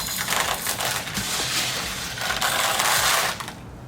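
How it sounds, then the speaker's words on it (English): Crushed glass is pressed onto a Dollar Tree glass vase, giving a steady, loud, gritty crunching and rattling close by that lasts for several seconds before easing off. "So now you just want to lean this over and apply the crushed glass."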